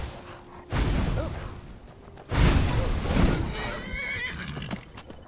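Horse whinnying in Skyrim, two loud neighs with hoof clatter and combat whooshes around them, some game noise between.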